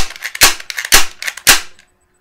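An M945 airsoft BB gun fires three loud, sharp close-range bangs about half a second apart, with softer mechanical clicks and rattles between shots, then silence.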